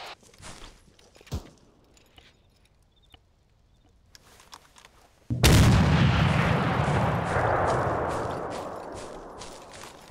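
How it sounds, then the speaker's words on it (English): A C4 charge detonating in the military shooter ArmA 3: after a few quiet seconds with faint steps and one sharp crack, a sudden loud blast erupts and rolls on as a long, broad rumble that slowly fades. "I'm gonna pop that C4 charge."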